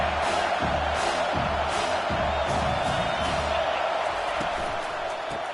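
A dense, constant stadium crowd roar at a college football game in College Football 25, rising and sustained throughout, with a commentator's voice partly over it.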